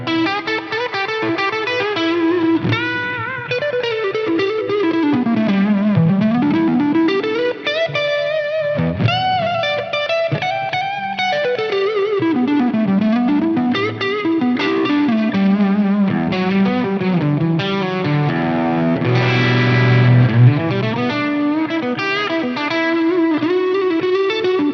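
Electric guitar played through a Rocktron Chameleon 2000 preamp in its Texas mode with reverb and delay, a smooth distorted lead with bending, sliding phrases and a chorus-like shimmer, continuous and fairly loud with no talking.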